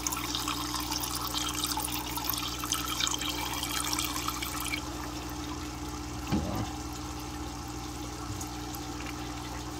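Water conditioner being poured into a koi fish's water, a steady trickling and splashing of liquid for about five seconds that then settles into a quieter wash of running water.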